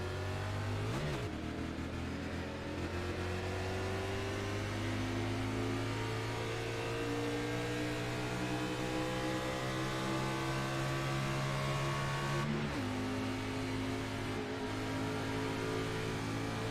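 A race car engine holds near full throttle on an oval track, a loud steady drone that climbs slowly, dips sharply twice as the throttle lifts briefly, then winds back up.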